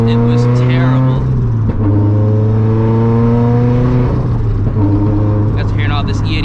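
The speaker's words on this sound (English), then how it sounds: "I'm actually gonna go ahead and put a video of the actual leak because it was terrible." A turbocharged Toyota FRS running E85 with a badly leaking exhaust, loud and close, revving and shifting through steady droning harmonics with a raspy edge and brief pops between gears.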